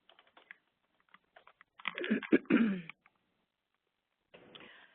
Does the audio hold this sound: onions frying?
no